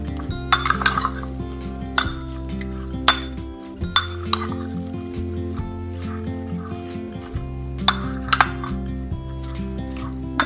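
Apples with cinnamon stirred in a bowl with a spoon, giving repeated bright clinks and scrapes of utensil against the bowl over a steady low hum, close and fairly loud.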